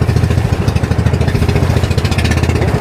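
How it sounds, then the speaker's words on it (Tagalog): A fishing boat engine runs close and loud in a steady, uneven chugging throb with irregular misfiring beats. "Palyado pa ng makina nito."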